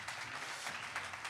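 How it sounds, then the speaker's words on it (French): Audience applause at a forum event, a steady dense wash of clapping from a crowd, moderately distant and continuous throughout the short stretch. "On peut les applaudir hein, pour toutes ces phrases"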